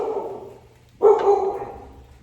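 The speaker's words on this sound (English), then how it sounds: "You can hear my dog Sky in the background" A single sharp bark from a pet dog named Sky in a home kitchen, moderately near, rising out of quiet room tone and trailing off over a second.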